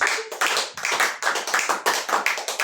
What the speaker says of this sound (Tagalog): Palakpakan natin ng Panginoon.